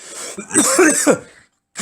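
A single harsh cough, close and loud, followed after a short pause by a brief second burst.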